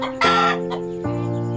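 Village chickens settling in for the night cluck and murmur up close, giving short loud bursts over a continuous low, throaty drone.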